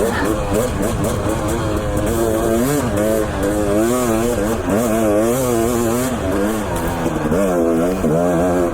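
A Husqvarna TE250 dirt bike is ridden hard: loud, buzzy engine noise rises and falls in repeated revs and gear changes, up close and continuous.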